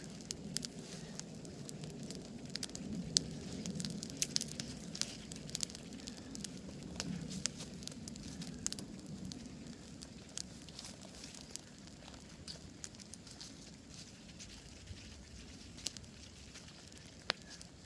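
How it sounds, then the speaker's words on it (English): Creek water at a rolling boil in a pot over an outdoor fire gives a steady low bubbling churn with scattered crackles and pops, moderately close and continuous, with no talking. "we definitely have a rolling boil"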